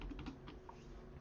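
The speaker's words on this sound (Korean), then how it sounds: "키보드에 빼기를 눌러서" Faint computer keyboard key presses tap softly a few times in quick succession against a quiet room hum.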